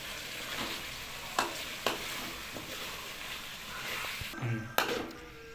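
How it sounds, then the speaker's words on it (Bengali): Chicken liver sautéing in a pan with a little water, a moderate steady sizzle with a few sharp stirring knocks and scrapes, with some clatter near the end. "এইভাবে হালকা জল দিয়ে কষে নিতে হবে ভালোভাবে"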